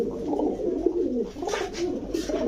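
A pair of Pakistani Teddy pigeons coo close by, soft rolling throaty calls repeating in uneven bursts, with faint brief rustles in between.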